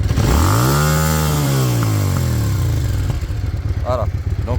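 Loud, close custom chopper motorcycle with its original stock exhaust, revved up then falling in pitch as it winds back down to a throbbing, uneven idle.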